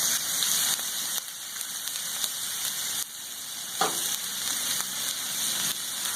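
Garlic sizzling steadily on a Blackstone griddle for fried rice, a loud continuous frying hiss with crackling throughout and one brief clatter near the middle.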